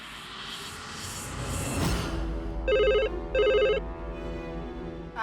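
A telephone ringing during a call in an office setting, two crisp electronic ring bursts close together after a whooshing swell, with a fainter third ring trailing off beneath steady background noise.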